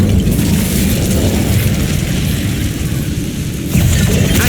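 Incendio fire spell in the Hogwarts Legacy video game, a loud, close, sustained roaring blast with heavy low rumble that holds steady and swells again near the end.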